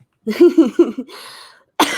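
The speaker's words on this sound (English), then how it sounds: "Didn't mean to cough." A person coughs a few times in quick succession, close and fairly loud, followed by a brief breathy sound and another short noise.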